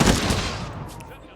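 A musket volley fires in the Humankind strategy game as one loud, booming crack that rolls away into a rumbling, crackling decay over about a second.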